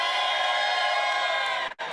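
A crowd at a leadership talk responds together, a steady sustained murmur and cheer that holds evenly before cutting off abruptly near the end.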